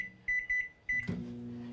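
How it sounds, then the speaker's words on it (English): Microwave oven cooking bagged corn, starting with three evenly spaced electronic beeps, then a click as the hum of the running oven starts and continues steadily. "I'm gonna put my corn in the microwave."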